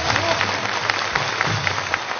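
A live television studio audience of more than twenty thousand gives warm applause, a continuous broadband roar of clapping that stays steady and fairly loud for the whole stretch.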